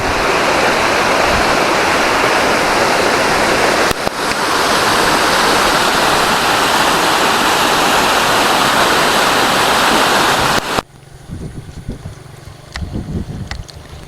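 A loud, steady roar of the Stawing waterfall in the Menoreh hills, Kulon Progo, rushes continuously, then cuts abruptly to quieter ambient sound with faint movement.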